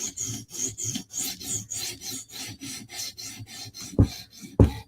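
An S90V steel blade, a Lil Native, rasps in steady repeated strokes across a sharpening stone on a TSProf Kadet guided system, each pass a gritty scrape with short pauses between, ending in two sharper clacks; no one speaks.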